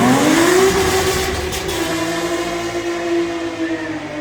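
A tuned car spinning its tyres under hard throttle, engine note rising then holding steady in a loud, close rev with a tonal whine, no talk.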